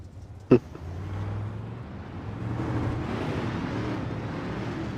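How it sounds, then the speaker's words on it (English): Race cars in a UMP sim racing series at a virtual Lanier speedway rolling off at the start, a low steady engine drone building across the field after a brief sharp click at the outset, with no talk. "You see these cars starting to roll off."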